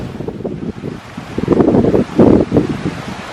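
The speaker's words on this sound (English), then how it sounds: "Now the wind's going to blow it where you can't" Wind gusts through a garden of perennial hibiscus plants, a loud, close rushing buffet against the microphone that swells and fades in uneven surges.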